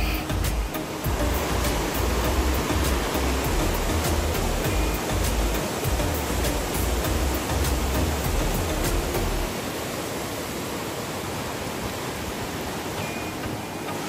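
Waterfall at Borjomi, Georgia, a dense, steady rush of falling water that stays constant and close, with a deeper low roar for most of the stretch before it thins slightly near the end.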